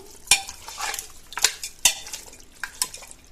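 Mutton with garlic paste, salt and a tumbler of water stirred in a metal pot, giving irregular scraping and clanking strokes with sharp utensil hits and wet sloshing between them, close and fairly loud.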